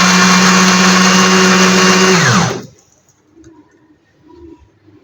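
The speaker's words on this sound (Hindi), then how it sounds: "और अब इसे ब्लेंडर मशीन पर रख के" A blender making fresh grape juice whirs loudly for a couple of seconds, its pitch dropping as it winds down to near silence with faint background sounds.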